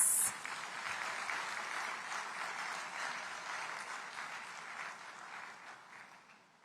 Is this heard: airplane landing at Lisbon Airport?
no